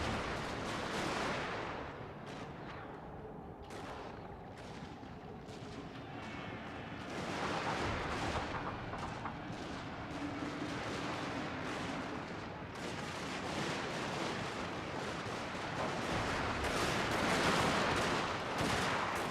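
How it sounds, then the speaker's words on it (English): Artillery fire in the battle game Shogun 2: Fall of the Samurai, a dense, continuous roar of distant cannon booms and crackling musketry mixed into a steady battlefield din. "that's where the artillery is coming from"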